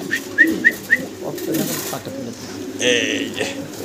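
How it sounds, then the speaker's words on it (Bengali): Soft cooing from a large pair of Mundian pigeons nearby, a few short rising notes followed by a low throaty call, with faint background sounds. "ফ্লোর টাচ বডির বিশাল সাইজের একজোড়া মুন্ডিয়ান কবুতর"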